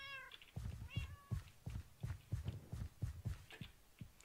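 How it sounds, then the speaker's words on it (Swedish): Cat meows in a Minecraft game, a series of short repeated game-sound mews with rhythmic thumping footsteps underneath, fairly close and steady throughout. "Akta mina katter!"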